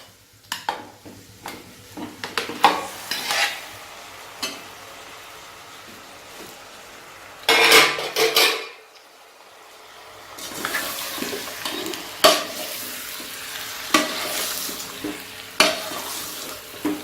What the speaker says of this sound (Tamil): மட்டன் இஞ்சி பூண்டு பேஸ்ட்டில் எண்ணெயில் நல்லா மிக்ஸ் ஆகிற அளவுக்கு.